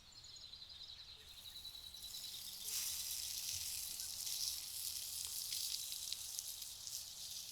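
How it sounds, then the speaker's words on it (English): Bacon searing in a pan until golden and crisp, a steady bright sizzle and crackle that grows louder partway through and continues without talk. "we will sear some bacon until it gets golden and crisp"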